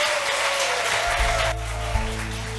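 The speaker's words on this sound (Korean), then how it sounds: "그럼 큰 박수로 모시도록 할게요." Audience clapping in a hall at a summer science slam concert in Daedeok, welcoming a nuclear research institute speaker to the stage; steady applause fills the space and drops in level partway through, with a low hum underneath.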